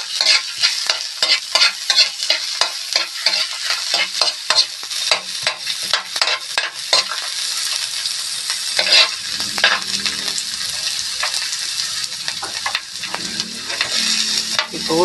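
Garlic sautéing in a pan for a clam soup with papaya and moringa, first rhythmic scraping stirs, then a continuous bright sizzle that swells louder toward the end.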